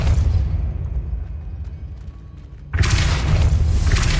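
A Depulso spell blast in Hogwarts Legacy on PS5 lands as a sudden loud burst near the end, swelling into a bright, roaring wash after a low rumbling lull.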